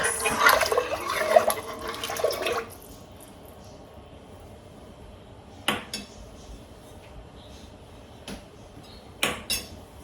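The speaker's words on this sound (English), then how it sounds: "I'm going to switch over to a spoon, give this a stir" A spoon stirs hamburger soup in a pot: a few seconds of scraping and clattering, then near quiet broken by a few light metallic clinks.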